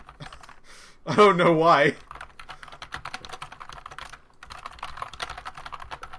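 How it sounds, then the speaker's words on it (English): Rapid typing on a computer keyboard runs steadily throughout, a close clatter of keys, interrupted by a brief loud burst of voice and mixed with some talk. "Excuse the typing."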